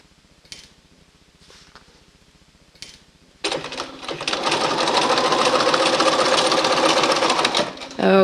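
A sewing machine stitches quilt strips for a reversible quilt, starting with a few brief clicks, then running in a loud, fast, continuous mechanical chatter for several seconds.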